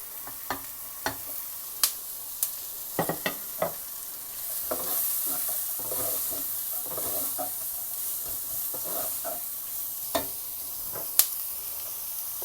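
Onion, cabbage and capsicum sauté in a little cooking oil while a spatula scrapes and clacks against the pan in quick, irregular strokes over a steady soft sizzle. No one speaks.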